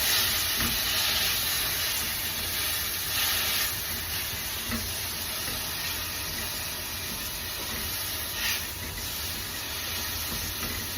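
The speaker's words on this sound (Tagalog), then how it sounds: "Igisa ko muna yung sayote." Chayote sautés in a hot pan, giving a steady, close sizzling hiss that continues unbroken throughout, with a few faint clinks of stirring.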